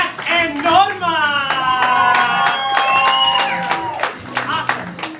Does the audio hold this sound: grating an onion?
no